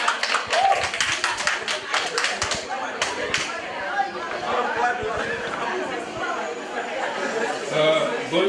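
Scattered clapping rises from the audience at a school graduation ceremony, a burst of sharp claps early on that thins out into crowd chatter and murmuring voices.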